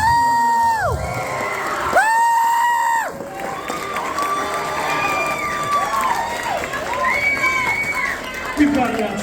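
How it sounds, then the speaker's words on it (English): Audience cheering and applause at a school orchestra concert, with loud whoops and shouts from children over a steady crowd roar and clapping, plus faint talk mixed in throughout. "Let's give them a big round of applause."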